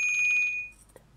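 A telephone rings indoors with a steady electronic warble for under a second, then cuts off, leaving a quiet room with a faint click.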